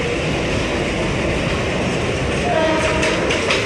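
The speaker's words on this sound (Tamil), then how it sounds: "இதுதான் நம்ம லோக்கல் ட்ரெயின்." Steady loud rumble and rattle of a Chennai local commuter train running along the tracks, heard from inside a carriage, with a brief squeal partway through.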